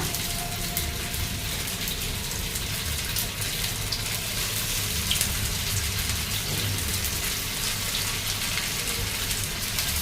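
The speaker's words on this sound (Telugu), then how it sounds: "మనం నూనె వేసాం కదా, మనం ఫిష్ ముక్క వేస్తాం కదా ఫ్రెండ్స్ ఫిష్ ఫ్రైకి." Fish pieces frying in hot oil in a pan, a steady hissing crackle that stays even and close throughout, a busy spattering texture with no talking.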